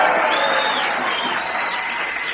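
Sound-effect applause from a polite crowd fills the space with a dense, steady clapping that tapers slightly over a couple of seconds.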